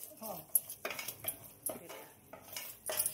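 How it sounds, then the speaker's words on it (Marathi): A spoon scrapes repeatedly around a kadhai as besan flour roasts in ghee over a low flame for ladoos, in quiet, evenly spaced strokes with light metallic clinks. "फक्त हलक्या हाताने आपल्या बारीक गॅसवर बेसन पीठ छान हलवायचं."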